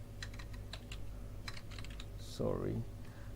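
Light clicking keystrokes on a computer keyboard, a quick irregular patter close by, followed by a short voice near the end.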